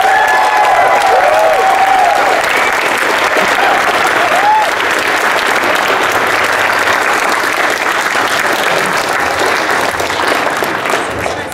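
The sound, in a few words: audience applause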